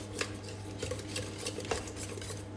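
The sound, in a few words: mixing butter into custard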